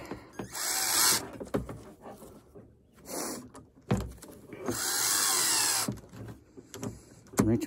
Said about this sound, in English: Wrench them down.